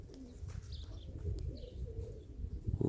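Baku pigeons, a flock of white and other colored birds, cooing softly in an aviary, low murmuring coos repeating quietly over a steady background hum.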